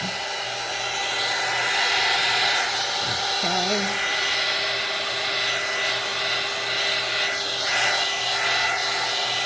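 A loud blower roars steadily throughout, a constant airy whoosh, while a person briefly speaks over it.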